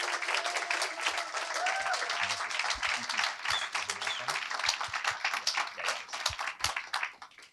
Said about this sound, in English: let's give a huge round of applause to Joseph